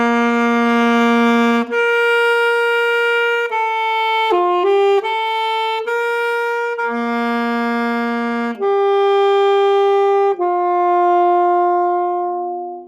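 A single melodic instrument plays a slow phrase of sustained notes joined smoothly into one another, each held about a second or two with no gaps between them, clear and up close.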